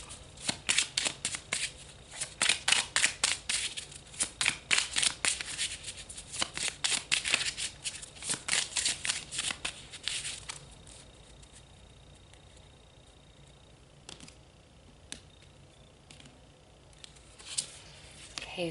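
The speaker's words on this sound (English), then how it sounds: "So let's pull some more cards." A deck of cards is shuffled for a card reading: rapid riffling and pattering bursts for about ten seconds, then quieter occasional card slaps and handling.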